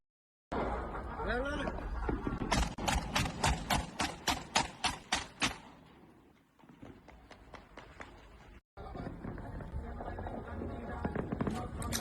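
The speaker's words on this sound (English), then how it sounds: "they've been caught shooting guns randomly off of a Texas bridge" Guns fired off a Texas bridge, with a rapid run of about a dozen sharp evenly spaced shots followed by a sustained noisy stretch of more fire.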